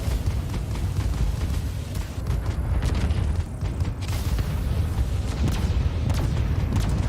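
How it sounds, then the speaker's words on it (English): Volleys of missiles fired from a spaceship in the game Void Crew: a dense, loud run of overlapping booms and thuds with mechanical clanks, continuous and without pauses, no voices. "I'm firing all the missiles"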